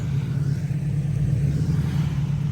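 Burnout truck engine bogging during a boosted four-wheel-drive launch in a yard, a steady low droning rumble that holds without climbing in pitch, close and continuous for the whole stretch.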